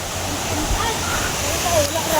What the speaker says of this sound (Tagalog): Nadira nadira ang Inambakan Falls.